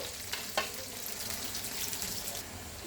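Sliced okra frying in hot oil in a pan, a dense continuous sizzle and crackle close up, with a couple of faint stirring knocks and no talking.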